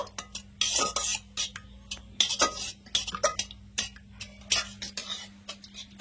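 Ripe palm fruit pulp is heated and stirred in a pan, with a utensil scraping and clinking against metal in irregular strokes and bursts over a quiet low hum.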